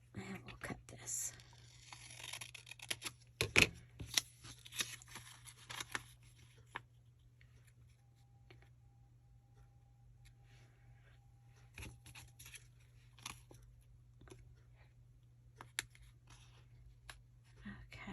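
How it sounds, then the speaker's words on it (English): Paper scraps being snipped with scissors, a few sharp crisp cuts and rustles early on, then sparse faint clicks and handling sounds over a low steady hum, fairly close and quiet. "I'm going to cut this off. And we'll cut this."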